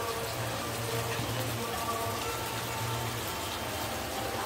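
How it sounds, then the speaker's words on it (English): Steady rain falls outdoors, a continuous broadband hiss of drops that holds at an even level for the whole stretch, with no other sound standing out above it. "It's raining today."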